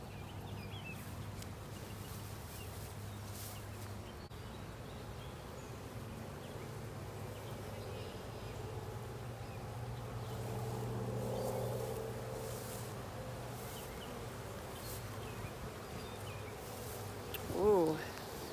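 Honey bees buzzing around an open hive in an apiary, a faint, steady, low hum that swells slightly midway, with a brief sound near the end.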